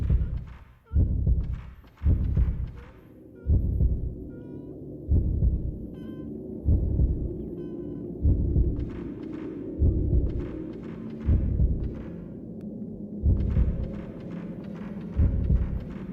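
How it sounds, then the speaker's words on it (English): A slow, steady heartbeat from the Fatal Frame 2 horror video game thumps deep and muffled, roughly one beat every second and a half, looping evenly under a dark ambient drone. "Let's follow the heartbeat and the glowing."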